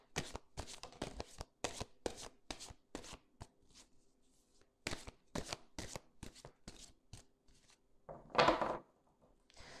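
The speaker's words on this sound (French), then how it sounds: "Je vais disposer les cartes à vous, à mes Capricornes" Oracle cards riffled and shuffled by hand in close, crisp bursts, with pauses between and a louder snap near the end as the cards are laid out; no talking.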